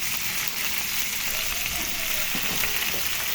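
Water spinach stems sautéing with tofu in a hot pan, a continuous hissing sizzle with faint stirring scrapes, moderately quiet and without talk.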